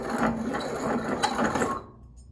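Piston rings for an 89ci stroker engine in a 1993 Harley FXR are ground to size on a hand-cranked ring grinder, a close, rapid gritty rasp with a ratcheting rhythm that stops abruptly near the end.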